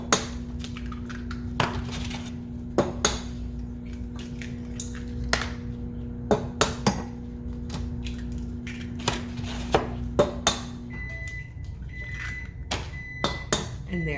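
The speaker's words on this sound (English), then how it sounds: "I'm gonna crack the 6 eggs in here is what we need now" Six eggs cracked one after another into a mixing bowl in a home kitchen, a string of sharp, close taps and knocks spaced irregularly over a steady low hum of an appliance.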